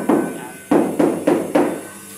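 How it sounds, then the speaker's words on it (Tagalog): A hammer, likely rubber, pounds a floor tile into place during construction, with five dull, thudding blows: one, a pause, then four in fairly quick succession, close and loud with no talk. "Pukpok dito, pukpok dyan, yan. Kahit saan na lang na pupupukin yan."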